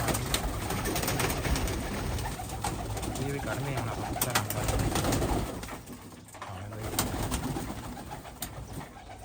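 Pigeons coo steadily close by, a flock murmuring throughout while a person talks over them.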